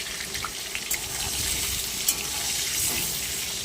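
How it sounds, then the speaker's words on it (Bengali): Potatoes fry in oil with salt, a soft continuous sizzle with faint bubbling and occasional small crackles, fairly quiet and close, with no voices. "শুধু নুন দিয়ে আমি আলুগুলোকে ভাজবো"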